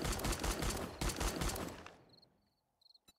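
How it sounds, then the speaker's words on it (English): A pipe machine gun in the video game 7 Days to Die fires a rapid, loud burst of close shots for about two seconds, then stops, followed by a few faint clicks and one sharp tap. "This is the pipe gun machine gun."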